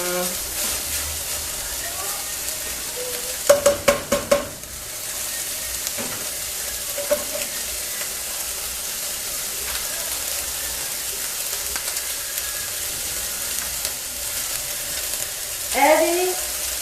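Bolognese sauce sizzles and fries steadily in a pan, with a short burst of clattering stirring near the start and a voice speaking intermittently over the continuous crackle.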